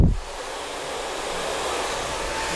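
A hair dryer blows while hair is being styled. It starts with a brief thump, then settles into a loud, even rush of air that runs without a break and with no talking.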